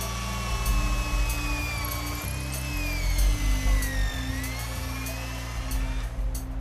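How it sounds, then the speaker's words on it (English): Power drill boring an anchor hole into solid cave rock, a steady whining buzz with a brief pause and shift in pitch partway through, heard fairly close amid faint background hiss. "20 feet up to where he'll drill in an anchor."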